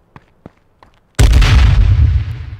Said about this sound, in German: Granate auf mich